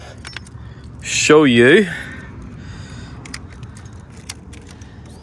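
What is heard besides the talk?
motorcycle keys jangling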